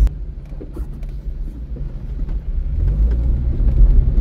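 A 2012 Chevrolet Celta LT compact car driving over potholes, a low rumbling road and engine drone with irregular thumps and jolts, growing heavier toward the end.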